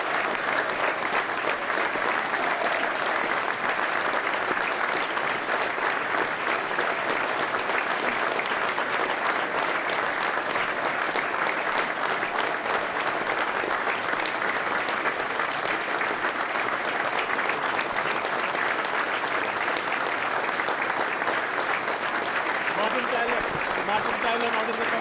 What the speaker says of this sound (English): We're paying tribute now with a minute's applause to Marvin Morgan